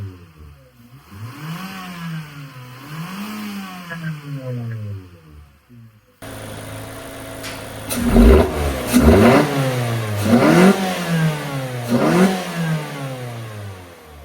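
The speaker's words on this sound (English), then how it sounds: "we're gonna do a sound comparison to see what the old intake system sounds like as compared to our new system" A 2015 Mazda 3 fitted with a K&N Typhoon cold air intake is revved repeatedly in sweeping rises and falls. The first passes sound smoother and quieter, and the later revs are louder and sharper, with a clattering edge.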